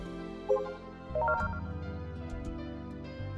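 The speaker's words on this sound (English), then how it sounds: "Pull out my phone droid and boot up Kill Ballad." The Kill Ballad phone app in the video game Robotics;Notes Elite boots up with a short electronic jingle of rising chime tones over a sustained synth chord, clear and close, with no talk.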